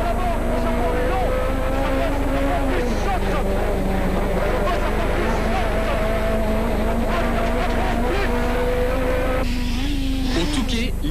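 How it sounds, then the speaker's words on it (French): A 1994 French rally championship Renault Clio Williams rally car at full throttle, its engine droning loudly and steadily with pitch shifts through gears, under a narrator's talk. "Un coup d'œil dans une Clio Williams qui domine cette catégorie suffit pour se rendre compte à quel point ces"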